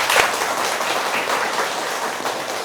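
Guests at a Hong Kong hotel wedding ceremony applaud in a dense, loud wash of clapping that holds steady for a couple of seconds, no one speaking.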